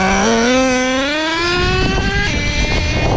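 Traxxas Revo nitro RC car engine screaming at high revs, pitch climbing steadily and then breaking into a rougher, noisier roar as the two-speed shifts, loud and close.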